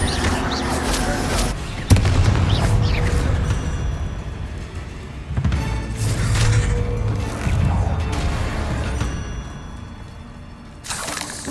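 Bombarda blasting spell going off in the Hogwarts Legacy video game, heavy crashing explosions with shattering debris amid busy combat effects and music, a sharp blast near two seconds and more around five to six seconds.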